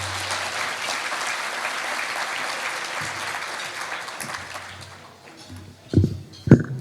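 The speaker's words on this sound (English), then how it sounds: "Give everyone a round of applause, please." Audience applause at a Coalition of South Florida Muslim Organizations (COSMOS) 2022 gathering: a dense, steady roar of clapping for about five seconds that thins out, followed by two sharp thumps near the end.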